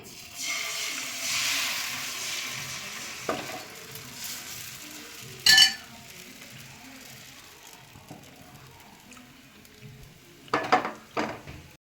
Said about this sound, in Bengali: দেখো এবার আমি এক হাতা ব্যাটার দিচ্ছি